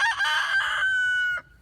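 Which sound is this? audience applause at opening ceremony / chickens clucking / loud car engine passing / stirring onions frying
chickens clucking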